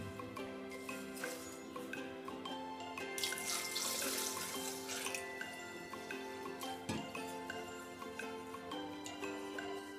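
Rice being rinsed in a bowl of water for ragi sangati, a soft, quiet swishing and trickling of water with light clinks of grains and vessel, continuous and close.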